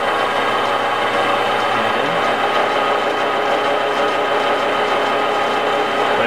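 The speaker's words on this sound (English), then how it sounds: "turn the lathe on." A metal lathe turning at its slowest forward speed, a steady mechanical hum with light gear clatter and a rhythmic ticking, continuous and close, with no talk.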